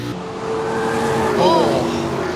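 Race cars of the GM, GMH and Ford battle at Bathurst give a continuous engine drone with a brief rising whine near the end, heard under a commentator's voice.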